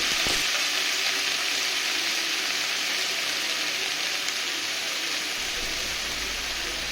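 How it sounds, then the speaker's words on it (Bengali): Spinach and eggplant frying in spices in a hot pan, a loud continuous hiss-like sizzle with a sharp clatter of stirring at the start, steady and close for seven seconds with no voices. "তো এবারে আমি পালং শাক আর বেগুনটা এর মধ্যে ঢেলে দিলাম দিয়ে এটাকে ভালো করে একটু উলট পালট করে মশলাটা এর সঙ্গে মিশিয়ে দিয়ে"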